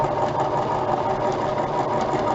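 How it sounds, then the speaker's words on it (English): An old sewing machine stitches through layered fabric, running in a steady, fast mechanical whir with a rapid rhythmic knocking that continues close and loud without pause. "So my sewing machine is very old and needs a lot of pampering."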